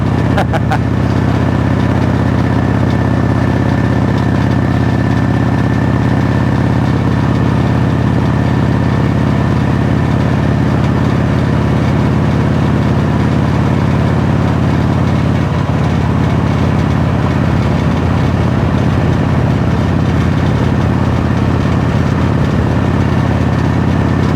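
A Harley-Davidson Road King motorcycle engine rumbles steadily on a test ride, a loud, deep continuous drone with a constant hum and some road and wind noise, while a voice talks intermittently over it.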